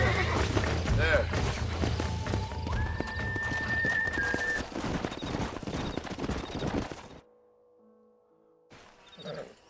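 Horse neighing and hooves clip-clopping in the video game Red Dead Redemption, with loud layered hoofbeats and a whinny over a busy mix for about seven seconds before dropping to near silence, with talk under it.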